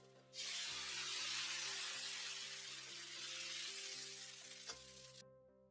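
Rice-flour appam batter poured into a hot oiled appam pan gives a loud, steady sizzle that starts abruptly and then fades slightly, with a faint clink near the end before it cuts off.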